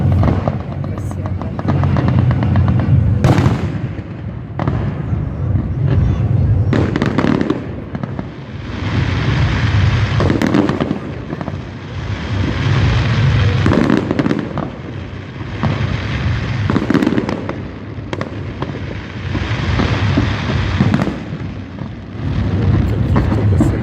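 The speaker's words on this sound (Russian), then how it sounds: "Каких только салютов." Booming fireworks salute from a 2017 World of Tanks display, with repeated loud bursts and crackling over a continuous rumble, while people talk nearby.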